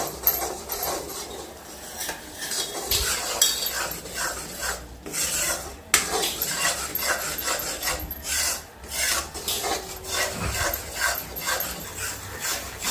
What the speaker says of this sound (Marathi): बेसन भाजा लागले बघा भाजले